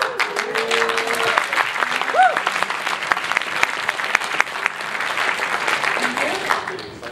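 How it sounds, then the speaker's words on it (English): Audience clapping in a large room at a university hackathon opening, sustained dense applause over the whole stretch with a few voices and whistles mixed in. "Just start clapping if you can, and then I'll start talking louder"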